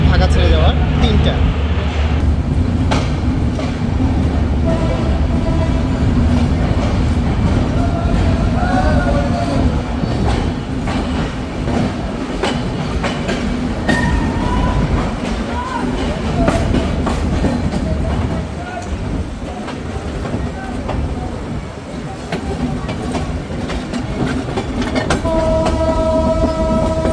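The Madhumati Express runs from Dhaka to Rajshahi with a continuous loud rumble of wheels on rails, rhythmic clatter and occasional squeals, while voices talk over it inside the carriage.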